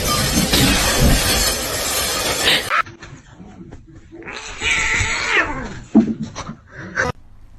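A kitten meows and yowls several times, loud and close, with shrill drawn-out cries after an opening stretch of noisy clatter and rustling.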